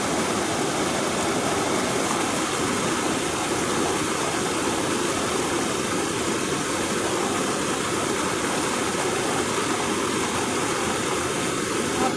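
Waterfall at Telhar Kund in Kaimur, Bihar, a steady, loud broadband roar of falling water that stays constant throughout, with no voices.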